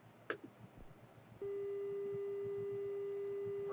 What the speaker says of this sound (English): Square wave first.